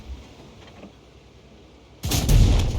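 A tank cannon fires in an online tank battle game, a sudden loud blast with a heavy low boom that cuts in after two seconds of quiet engine hum and lingers to the end.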